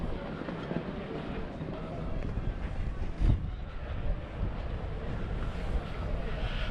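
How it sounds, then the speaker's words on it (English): Blustery wind buffets the deck of a Princess V55 motor yacht, a continuous roaring rush with a gust near the middle, steady and close to the microphone with no talking. "A bit blustery today."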